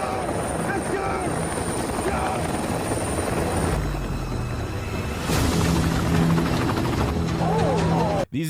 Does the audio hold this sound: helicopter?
yes